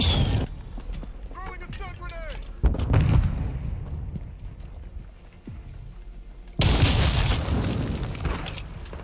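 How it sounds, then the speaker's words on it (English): Cruise missile strike explosions in Call of Duty MWII multiplayer, with heavy booming bursts around two and a half and six and a half seconds over rumbling battle noise, with voices talking earlier. "Hostiles launched a cruise missile"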